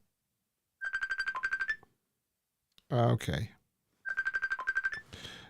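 A phone ringtone plays two repeated bursts of bright electronic tones a few seconds apart, stuck ringing constantly, with a brief spoken word between them.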